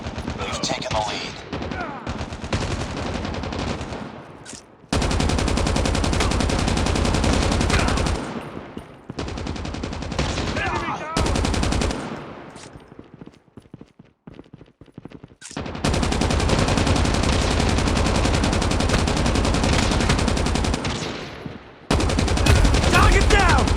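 Sustained automatic machine gun fire in the COD Mobile shooter, loud and close, coming in long continuous bursts with brief pauses between them, with occasional game voice callouts in the mix.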